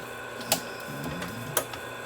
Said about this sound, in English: I can already tell by the sound the floppy is making the machine's booting